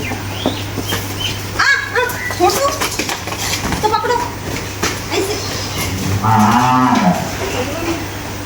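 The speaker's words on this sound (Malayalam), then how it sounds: "ഈ പശുവിനെ ഞങ്ങൾ കൊടുക്കുകയാണ്" A cow on a farm moos loudly and close by, with a long drawn-out call near the end, while a dog barks and people talk in the background.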